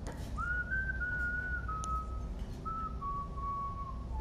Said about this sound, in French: il fout le seum à siffler là